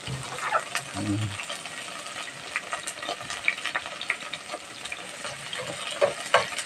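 Onions fry in a pan with a continuous close sizzle, sprinkled with small pops and crackles, a brief low thump early on.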